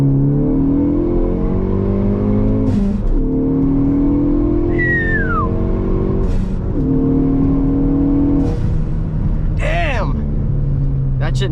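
A 2018 Ford Focus ST accelerates hard along back roads, the engine rising loud and close through several gears with clear drops at each shift as the car pulls repeatedly, with no talk over it.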